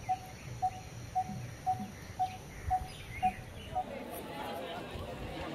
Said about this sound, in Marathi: फक्त पक्ष्यांचा किलबिलाट चालू आहे